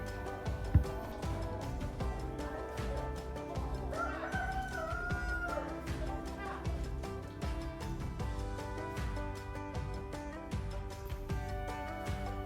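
A rooster crows amid a busy, noisy backdrop at a livestock sale, its call rising over steady clatter and chatter from the crowd.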